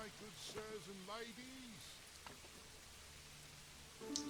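Rain falls in the medieval city-building game Manor Lords as a soft, steady hiss, very quiet overall, with a voice talking briefly near the start.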